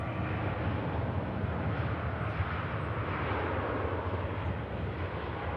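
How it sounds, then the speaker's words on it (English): A Cathay Pacific A350 airliner begins its takeoff roll at Manchester Airport, a broad, steady engine roar heard from a distance with no other sounds over it. "the Cathay Pacific A350 beginning her roll"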